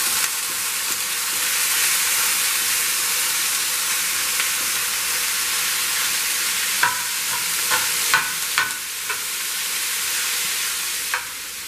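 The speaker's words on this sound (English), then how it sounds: "So my ground beef is browning" Ground beef browning in a hot pan for a burrito bowl, giving a loud, continuous sizzling hiss with several scraping knocks near the end as a spoon breaks the meat up.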